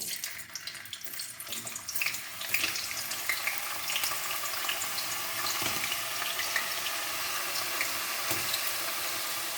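Thick-cut potato chips go into hot lard with a steady crackling sizzle that swells and holds, punctuated by splashes and scrapes from a utensil, close by with no talking.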